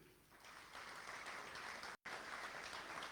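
Audience applause at a senior academic awards ceremony, faint steady clapping from a seated crowd with a brief dropout midway.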